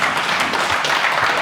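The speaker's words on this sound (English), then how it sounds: "Thank you for the applause." Audience at a live magic show applauding, a steady wash of clapping hands with no voices.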